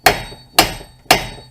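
Three sharp, loud metallic hammer blows, evenly spaced about half a second apart, tap a rusted axle out of the steering knuckle of a 2007 Kia Sportage, each strike ringing briefly before the next.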